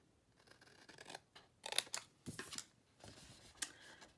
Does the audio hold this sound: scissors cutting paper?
yes